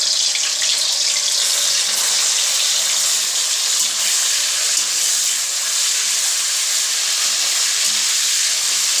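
Hilsa fish frying lightly in hot oil, a steady dense hiss and sizzle that runs loud and unbroken throughout with no voices.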